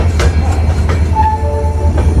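Diesel train at Bhusawal junction, a steady low rumble with faint tonal squeals and clanks, close and continuous, no voices.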